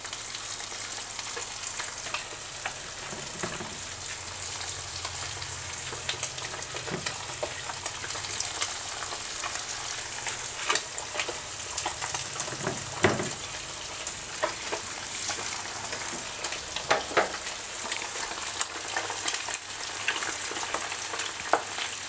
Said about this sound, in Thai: สังเกตดูที่กระทะนะคะจะมีฟองขึ้นมาอย่างเงี้ยค่ะร้อนแล้วเราก็ใส่ไก่ลงไปทอด